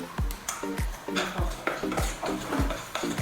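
Ingredients are stirred and mixed in a bowl with baking powder, a spoon scraping and knocking against the sides in a quick, steady rhythm of repeated strokes, close and fairly loud with no talking.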